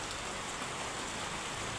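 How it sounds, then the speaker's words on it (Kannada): Steady rain pours down over a rural outdoor spot as an even, dense patter of drops on surfaces, continuous and close with no talking. "ಆ ಮಟ್ಟಿಗೆ ಐತೆ ಮಳೆ."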